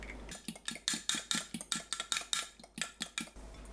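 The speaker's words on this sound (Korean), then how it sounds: "계란을 풀어서 준비합니다." A fork beats eggs in a bowl with quick, steady clinks against the sides, about five taps a second, quiet and close.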